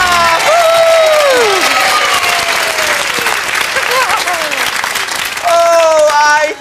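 Loud, sustained applause with cheering fills a children's nursery rhyme show, while voices whoop and sing over the clapping.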